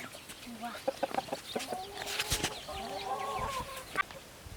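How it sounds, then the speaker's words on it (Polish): A rooster among mixed hens on a small farm gives low clucks and a drawn-out call, fairly faint, with scattered farmyard knocks and a trace of voices. "Tu jest nasz kogut."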